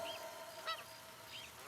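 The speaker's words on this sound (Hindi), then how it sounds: "आवाज सुनो, चिड़ियों की आवाज" Birds calling faintly at a distance, a few short honking calls spaced apart over a low background hiss.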